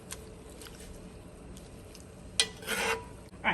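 Chicken chili in a pot has a low, steady simmering hiss with faint light taps, then a short burst of close scraping as a spoon stirs it, followed by a knock near the end.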